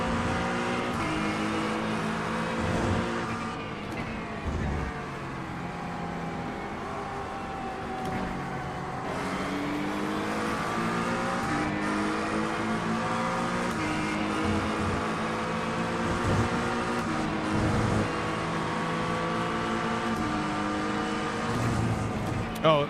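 A GT3 race car engine in iRacing drones and revs continuously at Long Beach, loud and steady with rising and falling pitch as the car shifts gears, occasional voices mixed underneath.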